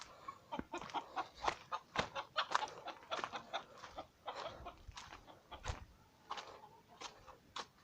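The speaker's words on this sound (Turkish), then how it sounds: "yumurtlayan tavuğunuz da şöyle bağırır" A hen cackles after laying an egg, in loud repeated bursts, uneven squawks and clucks coming in a rapid, agitated rhythm up close.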